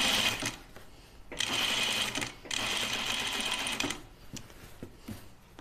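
A home sewing machine stitches a Colette Myrna dress in two sustained, steady runs with a short pause between them, followed by lighter clicks and handling noises as the fabric is adjusted.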